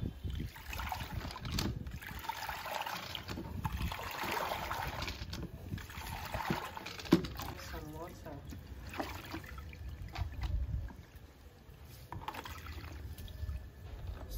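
A spinning mop dipped into a bucket of soapy water sloshes and splashes in repeated wet swishes and trickles, close by, with talk over the top.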